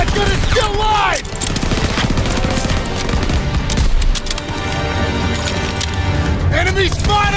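Call of Duty WWII machine gun suppressive fire, loud rapid bursts of automatic gunfire with shells clinking, amid shouted in-game voices, explosions and whistling projectiles.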